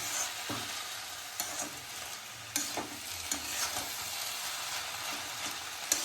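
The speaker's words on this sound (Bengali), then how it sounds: "এইভাবে কিন্তু এটাকে নাড়িয়ে চাড়িয়ে নিতে হবে" A sweet-salty mixture with sugar and salt is stirred as it fries in a pan, a steady sizzle with repeated scraping strokes of the spoon, close and continuous, with no talking.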